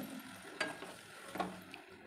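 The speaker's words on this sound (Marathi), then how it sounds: "बघू शकता तुम्ही कशी मी परतून घेते" Radish pods (mulyachya shenga) sautéing in a pan for bhaji make a faint, steady sizzle, broken by a couple of brief stirring scrapes, with no one talking.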